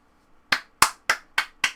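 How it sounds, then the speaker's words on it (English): Five sharp, separate hand claps, close and loud with short gaps between them, following a faint soft tap, from a lone person applauding during commentary on a My Little Pony episode. "great applause for both of you."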